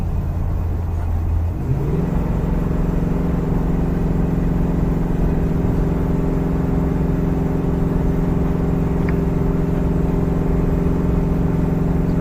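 A 2017 Ram heavy-duty truck with the 6.4 HEMI V8 towing a travel trailer up a steep grade, its engine droning steadily and loudly with a low, even rumble after a brief shift in pitch near the start.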